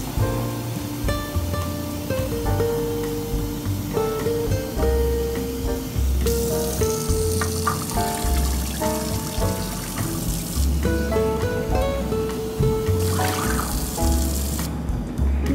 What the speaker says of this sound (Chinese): 接下来我们倒入4杯的4 cup 的凉水